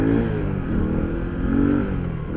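A 2024 Sanya X1000 motorcycle engine runs loud and close, giving a steady, throaty rumble that swells slightly as it revs, with no talking over it.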